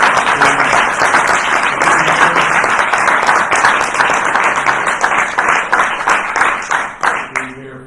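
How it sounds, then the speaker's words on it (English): A large audience gives a sustained round of applause for survivor panelists at a human trafficking panel discussion, dense and loud clapping that holds steady before thinning into scattered claps at the end. "Can we have a huge round of applause for our panelists?"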